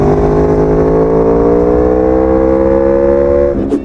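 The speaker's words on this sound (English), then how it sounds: "The Aprilia Tuono makes a fantastic sound." An Aprilia Tuono V4 1100 hypernaked motorcycle with a 1077cc V4 engine drones loud and close in a steady, slowly rising pull, then cuts off abruptly near the end.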